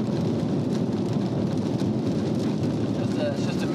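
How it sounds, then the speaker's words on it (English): Heavy rain in the mountains of New Zealand's Southland region, a dense steady roar of downpour that stays loud and unbroken throughout. "And it's hosing down with rain."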